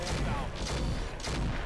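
Mech weapon rack firing in the BattleTech mod Roguetech, a dense volley of booming shots in repeated waves across the whole stretch, loud and continuous.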